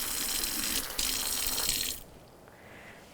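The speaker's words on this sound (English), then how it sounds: "Now I need 1/4 cup of hot tap water." Hot water runs steadily from a kitchen tap for about two seconds, a bright close splashing stream, then cuts off, leaving a quieter room with a faint drip.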